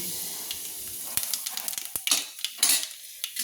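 Black cumin seeds hit hot oil for tempering in a Kolkata-style green bean and potato curry, raising a bright hiss and crackle with spoon clinks against the pan, close up, a voice speaking briefly over it.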